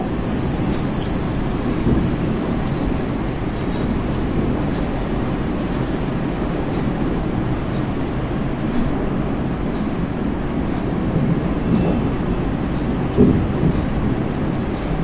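Chopped onions fry in a pan for a meat dish, giving a steady, dense sizzle that runs evenly throughout.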